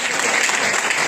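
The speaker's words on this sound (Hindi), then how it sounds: "तालियां, बहुत बहुत आभार। तालियां रखनी चाहिए।" Short, loud burst of dense audience clapping at a community award and talent-recognition ceremony, steady and close throughout.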